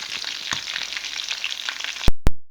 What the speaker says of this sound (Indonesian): bikin ayam goreng. Tapi aku ini frozen ya,